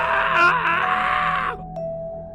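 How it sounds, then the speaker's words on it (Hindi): Animated horror story scene of a man caught and squeezed by snakes, giving a loud, strained scream that rises and then cuts off, followed by a lower sustained tone underneath. "इस बीच में नकुल को सांपों ने पूरी तरह से अपनी गिरफ्त में ले लिया था और वे कस रहे थे। वह चीख रहा था"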